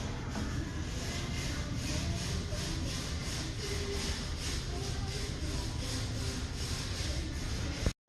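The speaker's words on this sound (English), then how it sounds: "we're gonna cut that out about 1/4 of an inch in, right where them bolts are" Sheet metal on a GMC truck body panel being cut out with a power cutting tool, a steady rasping, pulsing grind continuing for several seconds close by before stopping abruptly.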